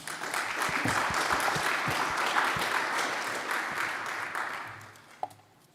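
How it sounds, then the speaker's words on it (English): An audience at a blockchain security talk applauds steadily after the talk ends, a dense wash of many clapping hands that holds for several seconds, then fades away with one last sharp clap. "So let's give a round of applause."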